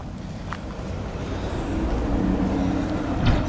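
Traffic rumbling across a bridge over the River Chelmer, a steady low roar that swells toward the end, heard from nearby with no talking.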